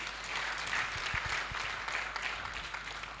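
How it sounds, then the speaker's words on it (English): Audience applause for the presenters at a report launch on Uganda's aquaculture census, a steady crowd of clapping at moderate distance lasting the whole stretch. "Let's give all our presenters a very big hand clap."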